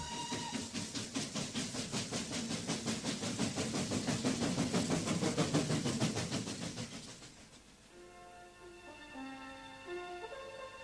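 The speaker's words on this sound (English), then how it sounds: "waited at the station as the train pulled out" A train clatters and hisses steadily for several seconds, its rhythmic rumble fading as it moves off, leaving quieter tonal sounds behind.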